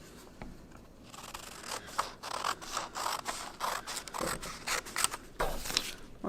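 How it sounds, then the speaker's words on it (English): Scissors cut a square out of a sheet of origami paper, making close, rapid, crisp snips in bursts with faint paper scraping between them. "What we want to do is go ahead and cut a square out of this sheet of paper."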